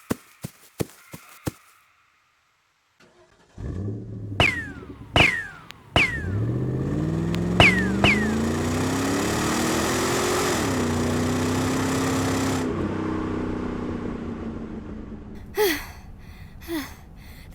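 An engine starts and revs hard as a car pulls away during an audio drama escape from a jungle treasure hunt, the roar climbing in pitch and then fading. Sharp gunshot-like cracks come before and after it.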